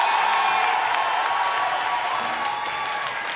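An audience at a sung-improv theatre festival claps and cheers to vote with an applause meter, dense clapping mixed with whoops and shouts that fades gradually over a few seconds.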